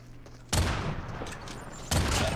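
Gunfire in the mobile game Call of Duty Mobile, with two sharp, loud onsets of rapid shots sounding close, the second burst brief, over faint game background.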